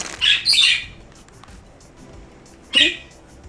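Two harsh, bright bird squawks burst out close by, followed by a pause and then a third loud squawk.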